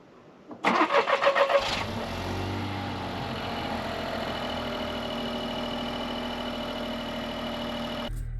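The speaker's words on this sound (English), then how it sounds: "Also, push button start. Ooh, a little hesitation here." A modern car with push-button start cold-starts after a slightly hesitant crank. About a second of rapid rhythmic cranking pulses catches and settles into a steady, even idle that runs on close to the microphone.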